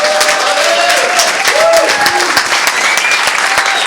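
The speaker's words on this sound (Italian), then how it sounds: "L'applauso per Valentino Bussu." Crowd applause rings out for Valentino Bussu, champion jockey of Ollolai, at a lively outdoor town gathering ahead of the donkey palio, steady dense clapping with cheers and murmuring voices mixed in.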